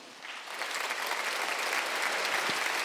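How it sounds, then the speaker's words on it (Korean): A church congregation applauds during a Sunday worship service, steady broadband clapping that builds slightly and holds at a fairly loud, dense level throughout. "하나님께 박수 칩시다"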